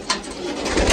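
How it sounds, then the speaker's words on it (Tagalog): A racing pigeon released from a loft, with a brief flutter and coo-like bird sound, close and fairly loud against steady outdoor noise. "magbibitaw siya ng ibon"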